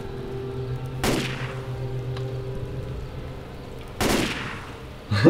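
Gunfire from the Left 4 Dead 2 zombie game: two sharp burst-like shots about three seconds apart and a third starting at the end, over a steady droning game background.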